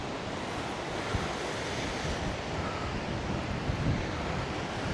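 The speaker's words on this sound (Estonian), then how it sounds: "Jõhker tuul ju." Strong wind roars across a rocky Saaremaa shore as surf churns steadily against the rocks, a dense, unbroken rushing with gusts buffeting the microphone and no pauses.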